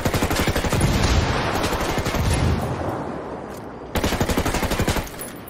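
Sustained automatic gunfire in the video game Ghost Recon Wildlands, a dense rapid rattle of shots during a firefight with cartel soldiers, easing off briefly before another loud close burst.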